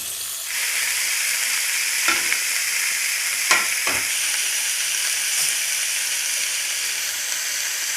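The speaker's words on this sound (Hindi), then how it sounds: "अब मैं ये पीस जो है इनको थोड़ा सा फ्राई करने के लिए डाल दूँगी ताकि रोस्ट का अच्छा सा कलर आ जाए" Chicken pieces frying in hot oil in a pan for chicken kabsa, a loud continuous close sizzle that bursts in after a brief quiet start, with a few sharp crackles and spatters, no voices.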